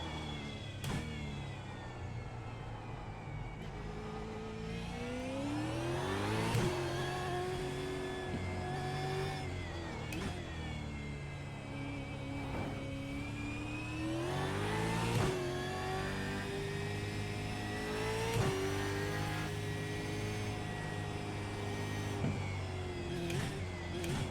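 A race car engine in the iRacing sim game revs and pulls through gear changes around the Adelaide Street Circuit, a continuous loud whine that rises and drops repeatedly during a lap.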